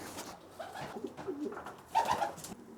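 Racing pigeons coo softly near a loft as they return from a race, with a few low, throaty calls rising and falling at a quiet level.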